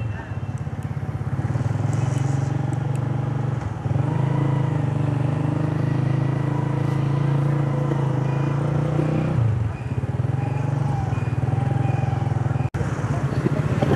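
A Honda CG motorcycle rides at night through a city road, its engine droning steadily and loud up close with broadband road and wind rush, a brief dip partway through, and voices talking over it.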